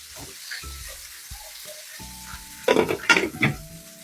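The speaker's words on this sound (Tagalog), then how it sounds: "naglututo ko ng isda" Fish frying in a home kitchen pan, a close steady sizzle with louder crackling bursts toward the end and faint clinks of utensils, no talk over it.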